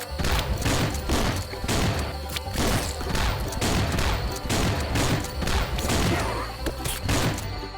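Double shotgun blasts in the mobile game Swamp Attack, dense repeated booming shots in rapid succession with crashing impacts, loud and continuous without pause.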